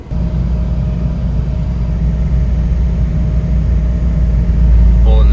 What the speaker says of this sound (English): Pulling this monster freaking hill with this monster trailer with pretty much all of our tools